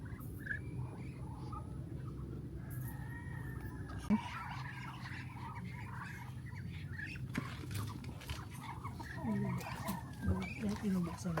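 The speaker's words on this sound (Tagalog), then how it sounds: "Chickens and ducks." Chickens and ducks on a farm in Bulacan make scattered clucks and calls among low rural background noise, with people talking intermittently over them.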